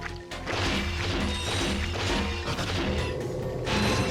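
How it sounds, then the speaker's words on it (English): Ratchet & Clank weapon pulling enemies in and firing them back out, a steady mechanical whirring with clanking, crashing hits layered over game music for about four seconds. "suck the enemies up and then shoot them out"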